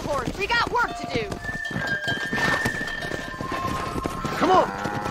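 Horse hooves clip-clop in the video game Red Dead Redemption (2010) on Xbox One X, a running rhythm of hoofbeats with whinnies at the start and near the end, under a voice talking.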